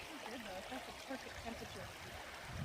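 Spring water runs steadily from a pipe at the head of an outdoor spring, a constant close trickling and babbling rush with no pauses.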